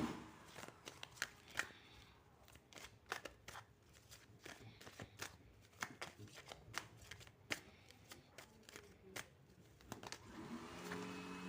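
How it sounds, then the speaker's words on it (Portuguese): Tarot cards being shuffled by hand, a steady run of crisp riffling snaps and soft slaps, close and moderately loud, continuing without talk. "Vou embaralhar as cartas aqui, colocar ali e já explico tudo."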